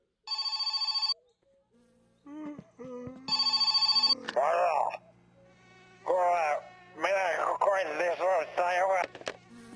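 A telephone rings in the video game My Summer Car: two electronic ring bursts about two seconds apart, each under a second long, followed by someone talking.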